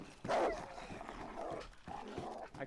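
A dog in the video game DayZ barks and whimpers close by, a few short yelps over a constant noisy game background.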